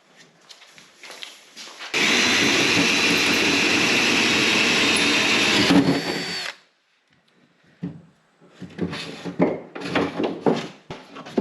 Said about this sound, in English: Well, I drilled a hole.